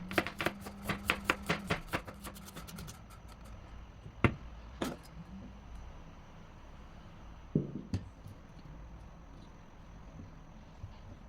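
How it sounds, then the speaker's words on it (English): A knife chops shallots very fine on a cutting board: a fast run of crisp, close taps for about three seconds, then a few isolated heavier knocks spaced apart over quiet room noise. "Now she's going to chop up some shallots very fine because she's going to deep fry these for the topping."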